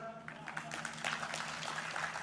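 A studio audience at the Bigg Boss OTT Season 3 launch applauds and cheers for Anil Kapoor's entrance, a faint but continuous wash of clapping with whoops rising partway through.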